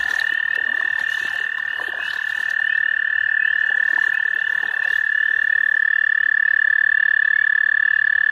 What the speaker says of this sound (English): There's one toad right there, and then there's another one right there calling.